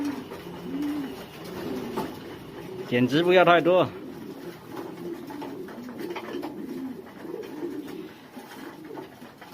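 Racing pigeons cooing close by at a loft, one clear burst of throaty coos rising over a bed of softer cooing and general bird chatter, with a person talking through part of it.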